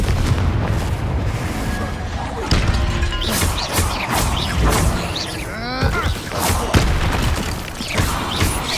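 A Confringo fire spell from the video game Hogwarts Legacy bursts with booming, crashing explosion effects over a busy game soundscape, with repeated heavy impacts and a spoken voice line.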